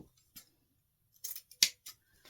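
Scissors snip through scrap ends of ribbon cut from a roll for bow making: a few crisp, close cutting strokes, one sharper and louder than the rest, with short quiet gaps between them.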